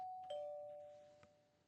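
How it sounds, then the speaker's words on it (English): A doorbell chimes with a clear two-tone ding-dong. The first tone rings and decays, a brief knock-like click falls between the two tones, and the whole sound is soft and isolated against near silence. "I heard the doorbell ring from the living room."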